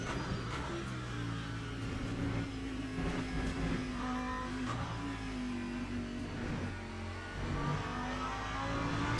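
Ferrari GT race car engine in Le Mans Ultimate entering the pits, a fairly quiet steady droning hum with slowly wavering pitch, unaccompanied by talk.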